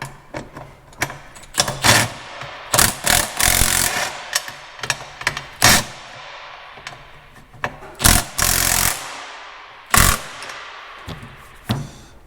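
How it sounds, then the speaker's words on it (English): Impact wrench running nuts on a Kinze bean planter during a rebuild, heard as repeated short bursts of loud rattling hammering, some brief and some held for a second or more, with quieter clanks of tools between. "Grab your impact and wrench"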